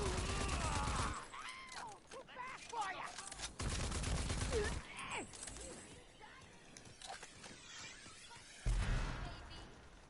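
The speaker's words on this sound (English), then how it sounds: "He's shooting rockets." Rocket fire and explosions in the PS4 shooter Rage 2, dense loud blasts and gunfire mixed with game music and voices, fading toward the end before another burst.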